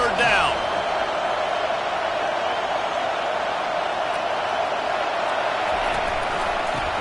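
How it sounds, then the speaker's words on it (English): A stadium crowd at a college football game, FSU against the Trojans, roars steadily and loudly on third down. The dense, sustained noise rises briefly at the start, and a voice can be heard over it. "Decibels rising as the crowd gets behind this defense on 3rd down"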